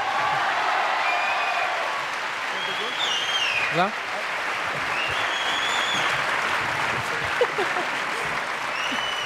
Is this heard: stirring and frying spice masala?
no